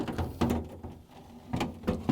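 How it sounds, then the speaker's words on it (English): A plastic drawer is slid back into a GE freezer, giving up close scraping and sliding rumbles with a few clunks and knocks in irregular bursts and a quieter pause in between. No one is talking. "Now I'm going to place the drawer back in."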